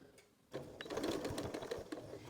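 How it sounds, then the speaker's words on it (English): A sewing machine stitches along a line on fabric while making a kitchen gift set, a quiet start giving way to a steady, close mechanical whir of rapid needle strokes. "I'm going to sew right along that line, and I start with my needle on the fabric, then backstitch to the end."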